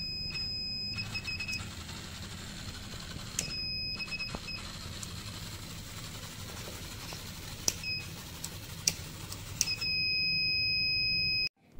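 An Arduino robot car's flame-sensor buzzer sounds in intermittent high electronic beeps over a low motor-like hum, then holds a steady continuous tone near the end before cutting off abruptly.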